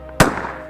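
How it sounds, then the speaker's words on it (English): A single sharp rifle shot during a wild boar hunt in the mountains, loud and close, with a crack followed by a rolling echo that fades over a fraction of a second. "Gunfire echoed across the mountains as we took calculated shots"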